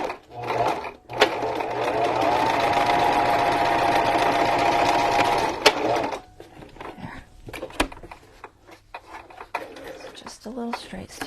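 A sewing machine runs a straight stitch through journal pages in one loud, continuous whirring burst of about five seconds, then gives way to quiet handling clicks and rustles.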